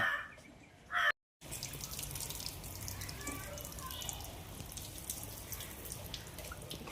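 Hot water runs from a tap for a Labrador's bath, a steady splashing hiss that resumes after a brief silence, with a faint voice at the start.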